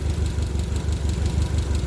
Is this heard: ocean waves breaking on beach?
no